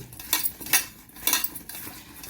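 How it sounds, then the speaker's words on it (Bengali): Omelette curry ingredients are mixed with salt using a spoon against a metal bowl, producing a quick run of close, bright scraping clinks in an uneven rhythm. "এবার এটাকে আমি ভালো করে মাখিয়ে নেব।"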